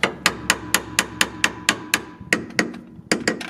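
A small hammer taps a Honda CR-V strut mount housing during a 2012-2016 strut install, giving about fourteen sharp, close metallic blows in a steady rhythm with a brief pause near the end.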